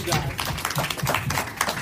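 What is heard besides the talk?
audience clapping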